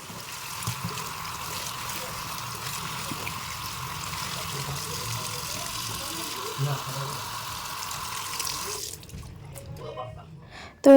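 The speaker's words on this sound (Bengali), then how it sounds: "চলো মাছগুলো ধোয়া ধুই করে নিই" Fish are washed under running water, a steady close splashing flow that continues for several seconds and then stops near the end.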